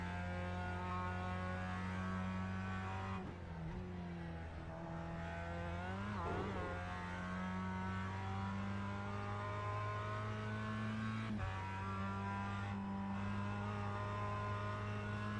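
A race car engine in iRacing holds a steady, loud revving drone with sustained harmonic whine, dipping briefly during a couple of gear shifts before climbing back to a constant high-rev hum.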